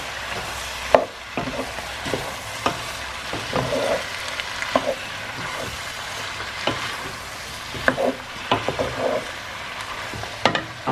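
Fresh garlic and ginger paste fries in a pan for a meat stew, a low continuous sizzle punctuated by the knocks and scrapes of a utensil stirring it at close range.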